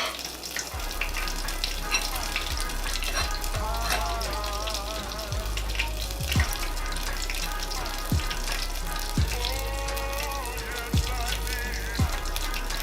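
Battered, breadcrumbed onion rings fry in hot grease with a continuous bubbling sizzle, close and moderately loud, broken by occasional soft knocks and a brief voice.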